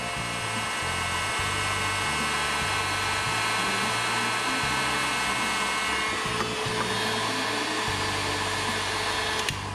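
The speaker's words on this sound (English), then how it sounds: "Get your heat gun, and then just simply apply your heat and let that shrink over your soldered connection." A heat gun blows steadily to shrink heat-shrink tubing over a soldered wiring connection during a Toyota Celica RA64 1UZ engine-swap wiring job. A continuous close airy roar carries a low hum that shifts pitch a few times, with no voices.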